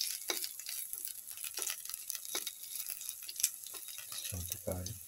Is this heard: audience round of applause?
no